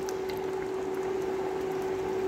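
Chicken simmering in its own broth in a pot on the stove gives off a quiet, steady bubbling with a constant low hum underneath, soft and close throughout.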